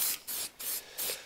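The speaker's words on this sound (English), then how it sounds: "it's only a spray can, it will spit" An aerosol spray can laying down primer paint in three short, even hissing bursts with brief pauses between, close and steady.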